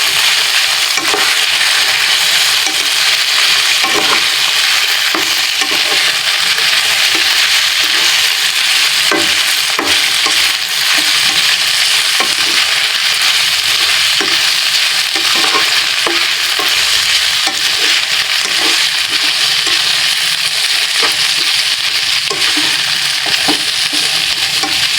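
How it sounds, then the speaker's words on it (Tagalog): Pork igado with liver spread frying in a pan, a loud constant sizzle with repeated spatula scrapes and clacks from stirring, close and uninterrupted. "Haluin na natin."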